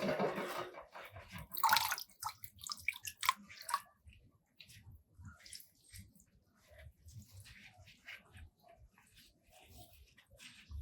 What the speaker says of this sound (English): I'm going to take some and just put a little water on top of this to dilute